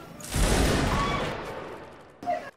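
Rifles fire a volley on command at a shooting match, one loud close crack with a long decaying echo, followed by a brief fainter metallic clatter.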